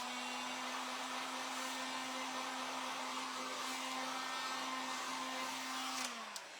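A hair dryer blows steadily at close range to dry wet paint on an upcycled thrifted sign, a continuous whirring hum that winds down at the end.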